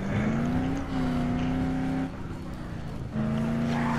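A car driven in the zombie game Dead Island holds a loud, steady engine drone. Its pitch shifts slightly as if changing gear, with a brief dip in the middle.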